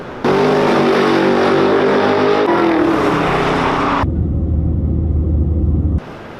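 A 1965 convertible with a 426 wedge Hemi engine rumbles loud and close, a steady deep roar that shifts pitch partway through, then settles into a lower idle before cutting off abruptly.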